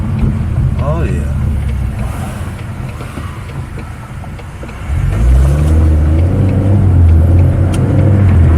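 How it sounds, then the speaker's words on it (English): A Ford Mustang EcoBoost's turbocharged four-cylinder engine idles, then revs up loud and steady about halfway through, with voices talking over it. "And you can kind of hear the turbo a little bit."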